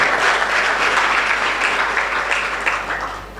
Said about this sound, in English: maybe please clap for the presenters